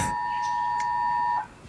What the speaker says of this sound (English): That was an emergency alert warning about a flood warning.